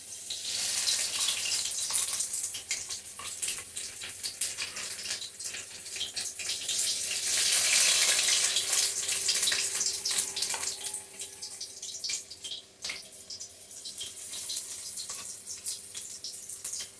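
Tap water runs steadily into a sink while cut potatoes are washed, a continuous close splashing rush with brief changes in flow.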